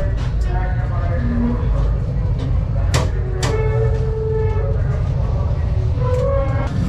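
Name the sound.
cargo train passing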